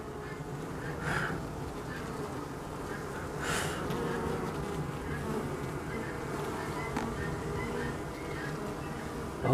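Bees buzzing in a dense, steady hum up close, with a few individual insects droning louder as they pass nearby.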